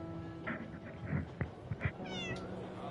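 A cat meows several times in the video game 11-11: Memories Retold, as short, faint mews set against quiet game ambience.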